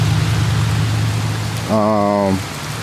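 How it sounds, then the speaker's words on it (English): Light, steady rain patters as a constant hiss throughout, with a brief voice sound partway through. "It doesn't look like it's gonna stop, but it's not raining that hard"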